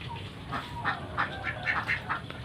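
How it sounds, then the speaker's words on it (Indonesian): Ducks quack in a series of short nasal calls, several close by in quick irregular bursts over a low farmyard background, with no talking. "coba kita lihat dan amati bebek yang tidurnya kepalanya diarahkan ke belakang"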